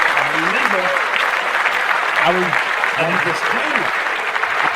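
A crowd claps steadily throughout, with whistles and cheers rising over the applause.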